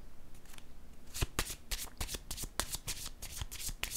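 A deck of oracle cards shuffled by hand, a quick burst of crisp riffling flutters close up, rapid and continuous over a faint background.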